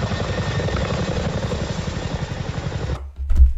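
A U.S. military helicopter flies past with a loud, steady, rapid rotor thumping and engine roar, then cuts off abruptly near the end.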